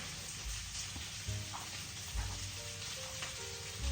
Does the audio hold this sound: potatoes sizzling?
yes